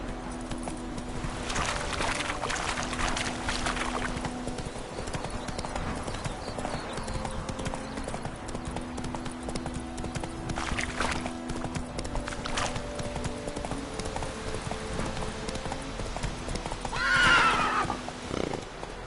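Roach, the horse in The Witcher 3, gallops in a continuous rhythmic clip-clop of hooves with a whinny near the end, set against a game music bed.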